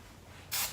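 A can of hairspray lets out one short, loud burst of hiss lasting about a quarter second after a quiet moment.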